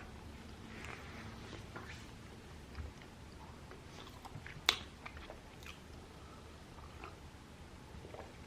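Dunkin donuts are chewed up close in a quiet room during a mukbang, with soft repeated mouth sounds, one sharper bite or click midway, and faint scattered small noises, no speech.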